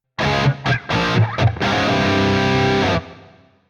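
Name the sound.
guitar with reverb decay lowered, shorter reverb tail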